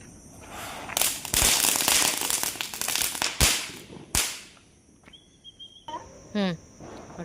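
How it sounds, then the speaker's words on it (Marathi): A tadtadi, a small crackling firecracker, is set off outdoors amid a family's Diwali-style fireworks, giving loud sharp snaps and a dense fizzing crackle over several seconds, followed by fainter pops and a brief whistle. "हा लाव तडतडी बघू"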